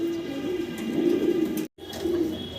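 Pigeons on a farm cooing in a steady low murmur, close and moderately loud, with a momentary dropout partway through.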